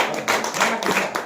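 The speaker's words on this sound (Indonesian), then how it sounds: "Tepuk tangan dulu." Brief burst of classroom applause in a high school Indonesian language class, a short spell of scattered hand claps at moderate level lasting about a second.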